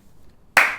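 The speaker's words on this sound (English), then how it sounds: "Bloody good clap there." One sharp, loud hand clap rings out close by after near silence, leaving a brief ringing tail in a quiet room during an album recording session.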